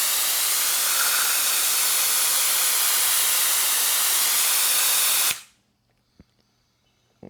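A suction tool draws brake fluid out of a BMW S1000RR track bike during an ABS delete, giving a loud, steady hiss for about five seconds that cuts off abruptly, followed by near silence with a couple of faint clicks.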